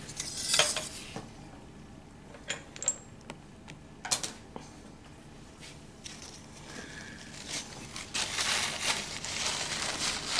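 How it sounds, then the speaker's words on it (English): A stir bar spinning to dissolve vitamin C (ascorbic acid) powder in liquid in a lab vessel, with scattered clinks and taps of glass and metal, then a rising steady swirling hiss. "Put it in here and mix up the vitamin C"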